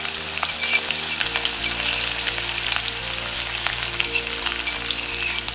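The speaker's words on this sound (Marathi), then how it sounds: "आता आपण यामध्ये घालूया लसूण, हिरवी मिरची आणि जिरं याचा ठेचा" A crushed paste of garlic, green chili and cumin fries in hot oil, giving a dense, steady crackling sizzle up close, with small spits and pops throughout.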